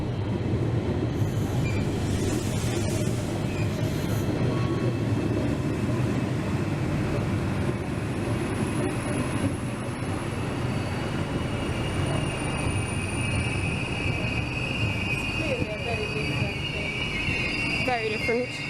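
A train runs along a railway near Sorrento, a loud, steady rolling rumble with metallic wheel squeal rising near the end, heard close up for the whole stretch.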